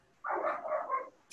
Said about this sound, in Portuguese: Os cachorrinhos.